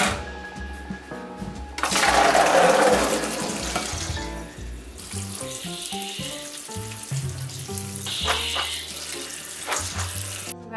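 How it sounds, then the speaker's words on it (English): Soaked beans are drained and rinsed under a kitchen sink tap, with a loud burst of running, splashing water, then quieter clinks, trickles and handling noises of the beans and colander. "so I'm just going to drain them and rinse them."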